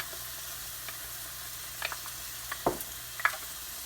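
Pureed tomatoes and tomato paste hit a hot pan for butter chicken, giving a soft steady sizzle with a few sharper spits and stirring scrapes, close and without talking.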